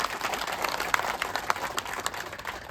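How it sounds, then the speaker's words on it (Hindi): Audience at a Hindi-language community gathering gives a sustained round of applause, dense overlapping claps at moderate distance with a few sharper individual claps standing out, no talking over it. "एक बार उनके लिए जोरदार तालियां बजा दे अपने यहां से"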